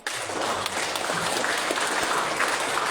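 A crowd at the opening ceremony of a regency-level high school sports and arts competition in Ngada bursts into loud, dense applause that holds steady throughout, with no voices heard above it.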